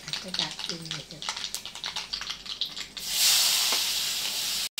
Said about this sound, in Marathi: हे काय कांदा मम्मी काय हे परतते ना, कोमवते